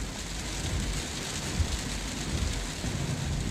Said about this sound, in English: The sound of the rain tapping against the car and the droplets dancing in the streetlights created a shimmering transparent film over the street.